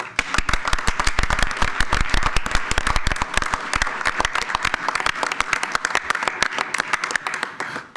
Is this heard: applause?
yes